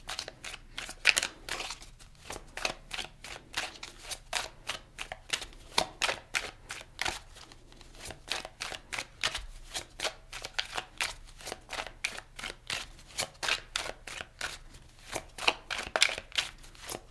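Tarot cards shuffled by hand in a steady stream of quick, crisp riffling flicks, close and fairly soft, continuing with a regular rhythm and no talk.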